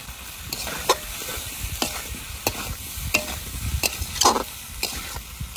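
Taro (mankochu) pieces frying with salt and turmeric in a pan, a steady sizzle broken by repeated scraping strokes of a stirring spatula, close and fairly loud with no talking.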